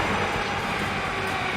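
A train rolls steadily along rails with a continuous rumbling, rattling roar at constant loudness and no voices over it.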